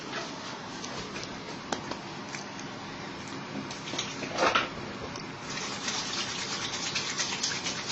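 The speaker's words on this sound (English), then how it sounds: "I'll just wash my hands." Hands are washed under running water, a soft, steady trickle and splash running for several seconds, with small taps and a brief louder gush midway and no talking.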